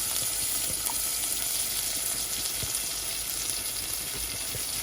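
Garlic, ginger and onion frying in hot oil, a steady close sizzle with soft stirring crackles running unbroken throughout, no voices.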